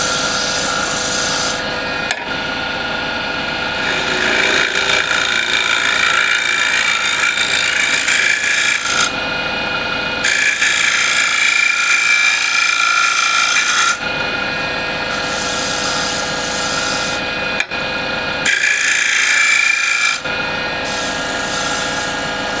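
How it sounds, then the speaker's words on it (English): A standard scraper shear-scrapes the inside of a wooden bowl on the lathe, giving a loud, continuous raspy rubbing with several brief pauses between passes, close and without speech. "Again, I'll go shear scraping."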